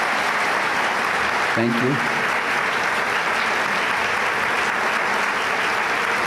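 A large audience at a lecture applauds loudly and continuously, with someone briefly speaking over the clapping.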